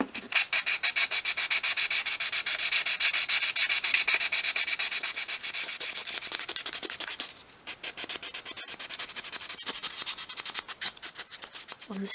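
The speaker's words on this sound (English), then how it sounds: "I've sanded right back to the wood along the front edge" Layered paint is sanded by hand from wooden dolls house furniture, down to bare wood along an edge: steady, close, rhythmic back-and-forth rubbing strokes with a brief break partway through before the scraping resumes.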